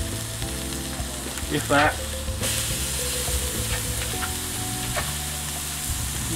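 Rump steak sizzles loudly on a hot Weber barbecue grill, with a steady, continuous crackle and hiss throughout and a brief burst of sharper spitting partway through.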